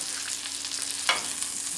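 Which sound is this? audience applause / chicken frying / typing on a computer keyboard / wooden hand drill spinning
chicken frying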